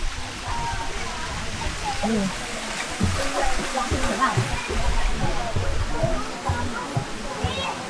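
Water flows steadily at a stream pool in Indang, Cavite, a continuous rushing wash with splashy detail, while people talk over it.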